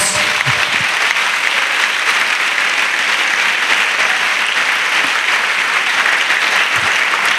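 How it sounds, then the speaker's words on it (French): Sustained loud applause from a church congregation, dense continuous clapping that fills the room evenly throughout, with a faint voice or two buried underneath. "Let's clap for God."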